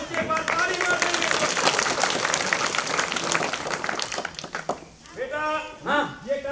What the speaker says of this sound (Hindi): बच्चे एक बार ताली मार देंगे